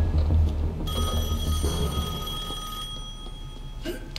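A telephone rings in the video game Assassin's Creed Chronicles Russia, a bright electronic bell tone sounding continuously over a low in-game rumble, fairly close and loud.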